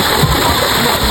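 Water splash from someone diving into a swimming pool, a brief splattering burst amid steady broadband water noise, with faint voices in the background.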